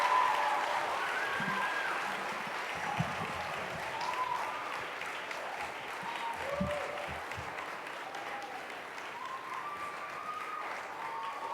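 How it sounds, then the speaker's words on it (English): Sustained audience applause at a Kenyan awards ceremony greeting the Deputy President, a steady even wash of many hands clapping at moderate distance, with faint voices and a few tonal sounds drifting over it throughout. "A clap for the Deputy President as he comes here."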